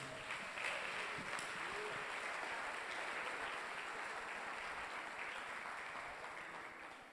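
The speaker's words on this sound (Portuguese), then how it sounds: "Aplauda o nome do Senhor Jesus." Church congregation applauding in a sustained, even burst of clapping that fades slightly toward the end, with no voices over it.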